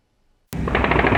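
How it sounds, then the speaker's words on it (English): Sudden rapid automatic gunfire in Rafah, heard over the border in Egypt, bursts in abruptly after silence and continues as a dense, loud rattle of quick repeated shots. "Apparent gunfire sounds out of Rafah today heard over the border in Egypt."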